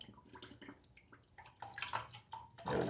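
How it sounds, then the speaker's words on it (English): Water runs from a tap over a synthetic shaving brush during bowl lathering with Proraso White soap, a soft splashing wash that builds louder toward the end, alone without talk. "Gonna wet the brush."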